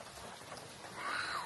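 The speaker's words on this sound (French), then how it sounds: "Parce qu'il pleut." Rain falls at night on a festival campsite among tents, a faint, steady hiss of drops without a break.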